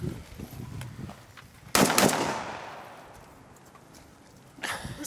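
Gunfire and explosions during a Ukrainian military drill for psychological combat training: scattered rapid shots, then a sharp loud blast at close range that decays slowly, and another burst near the end.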